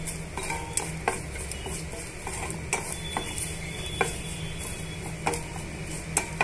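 Mustard seeds, chana dal, cumin and curry leaves fry gently in oil for a tempering, a soft sizzle under repeated light clicks and scrapes of a metal spoon against the pan.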